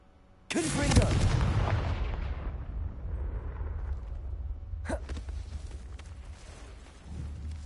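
A Confringo explosion spell goes off in a Hogwarts video game: a loud blast opens with a booming, rumbling burst that decays into a long low roll, followed by a sharp crack and another surge near the end.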